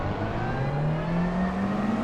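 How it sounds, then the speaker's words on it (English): Steady gearbox whine from a car in the Assetto Corsa racing game, a smooth tone climbing gradually over a constant engine drone, close and continuous throughout. "It's just the gearbox whine."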